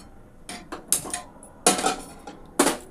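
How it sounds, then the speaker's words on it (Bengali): Metal cookware knocked and set down on a gas stove while preparing a Bengali fish curry, giving several sharp clanks and scrapes in quick bursts, close and fairly loud with quiet gaps between. "এবার আমি গ্যাসটা জ্বালিয়ে কড়াইটা বসিয়ে দেব।"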